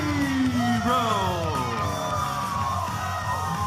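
An excited crowd at an OVW professional wrestling event cheers, whoops and yells for a tag team champion's entrance, a loud, sustained roar of many voices from start to finish.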